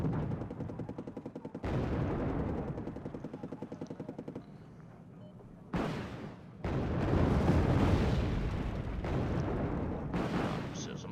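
Bombing strikes land in a helicopter combat video game, heavy booming explosions and rapid rattling bursts arriving in loud, dense waves with short gaps between them.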